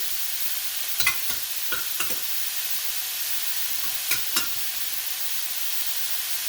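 Cheesesteak meat and sauce sizzle quietly in a pan under a steady frying hiss, with a handful of sharp scrapes and clacks of a utensil stirring the food.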